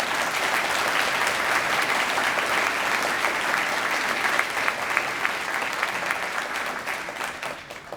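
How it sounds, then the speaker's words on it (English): Sustained applause from a large audience at a Law Day of Action event honouring court commissioners and a retired Supreme Court justice, steady and dense throughout, fading slightly toward the end. "So please give them all a round of applause."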